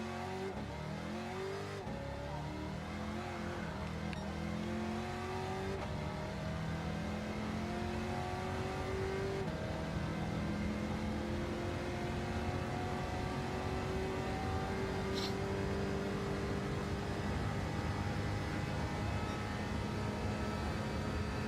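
A supercharged race car engine in Gran Turismo 7 revs steadily, its pitch climbing through repeated gear shifts, a continuous high whine and roar with no talking.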